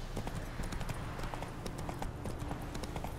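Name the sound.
horse hooves galloping in video game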